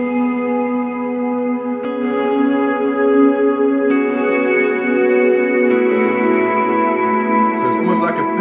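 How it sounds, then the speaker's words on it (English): Sustained electric guitar chords wash out into a long, shimmering reverb tail, each new strum swelling and blending like a pad with echoing repeats. "then all of a sudden the reverb kicks in"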